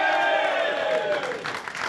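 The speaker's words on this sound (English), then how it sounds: "Can you keep your applause going?" Football fans from Premier League clubs form a studio audience and applaud and cheer loudly, a dense wash of clapping and crowd noise filling the short moment up close.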